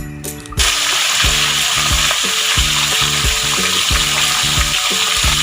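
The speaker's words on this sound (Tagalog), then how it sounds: "Siyempre, piprituin muna natin." Tilapia fries in a hot pan with loud, dense sizzling and crackling that starts abruptly, while a steady rhythmic mechanical hum pulses underneath, close and continuous.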